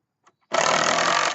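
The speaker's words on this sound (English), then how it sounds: "You gotta keep drilling until that's closed all the way." A power drill bores into wood on a mixed hip roof mock-up, starting suddenly after a brief faint tap and running as a steady, loud, continuous whir close by until the end.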